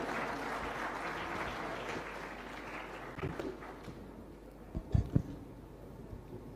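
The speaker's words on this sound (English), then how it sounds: "Please give a loud round of applause" Steady applause from a crowd fills the room for a panel at a national conclave on deep tech innovation in Visakhapatnam, fading slightly toward the end with a few louder claps near the close.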